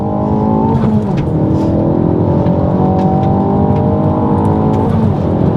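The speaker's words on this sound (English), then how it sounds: "So second gear, little delay, there we go, wheel spinning." Ford Focus ST Mk4 with a Dreamscience Stage 2 tune accelerating hard in second gear with wheelspin, a loud, steady engine roar rising in pitch heard from inside the car.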